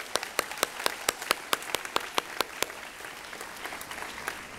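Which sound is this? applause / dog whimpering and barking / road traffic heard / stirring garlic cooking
applause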